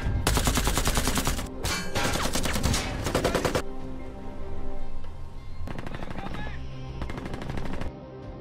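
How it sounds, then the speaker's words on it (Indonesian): A film gunfight in which both sides exchange fire. Dense, loud bursts of automatic gunfire rattle in rapid volleys, pause briefly, then resume, with no talking. "Kedua pihak saling melepaskan tembakan hingga si Parjo Codet pergi meninggalkan lokasi"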